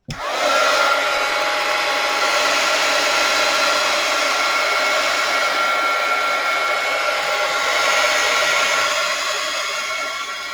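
A hair dryer drying an art journal page: a loud, steady blowing whir that switches on abruptly and runs continuously, with slight shifts in tone as it is moved.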